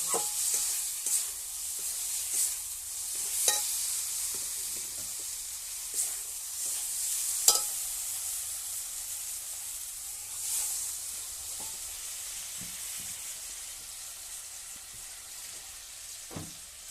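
Potatoes fry in oil with spice masala as they are stirred, giving a steady close sizzle broken by scraping stir strokes and a few sharper clacks, with no voices.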